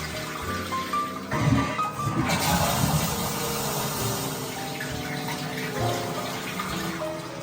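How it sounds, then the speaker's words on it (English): A HOROW T05 smart toilet flushes after its lid closes, a strong rush of water that swells at about a second in and keeps pouring steadily to the end. "and then you're gonna hear flushing"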